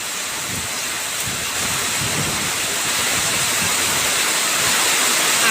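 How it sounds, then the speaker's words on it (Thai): Steady, dense roar of heavy rainfall with a constant wash of noise, slightly building in intensity, with no voices. "นี้ฝนตกหนักมากเลยนะคะ"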